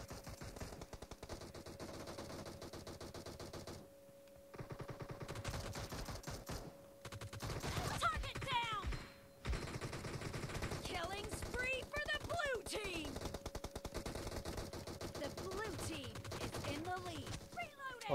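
Rapid automatic gunfire bursts in a PUBG battle royale match, crackling repeatedly through most of the stretch with brief lulls, under steady game ambience while someone talks over it.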